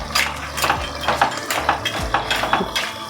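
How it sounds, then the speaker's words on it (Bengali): A spoon clatters and scrapes against a cooking pot while a vegetable curry with lentil dumplings (bori) is stirred, giving repeated close metallic knocks in an uneven rhythm, with no talk. "বড়িগুলো দিয়ে আমি ভালো করে একটু নেড়ে দেবো।"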